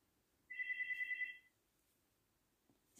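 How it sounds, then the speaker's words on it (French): Landline telephone ringing in a home, one warbling electronic ring burst lasting about a second, then quiet room tone, with no talk over it. "j'ai mon téléphone fixe qui sonne"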